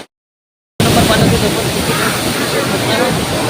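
Tirathgarh waterfall pouring in a steady, dense rush of water that fills the scene from just under a second in, after a brief silence, loud and continuous with no clear talk.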